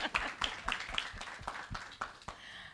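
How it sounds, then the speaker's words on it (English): An audience at a business summit breaks into applause, a run of distinct claps near the front that thins out and fades by the end, with no voices over it. "round of applause, ladies"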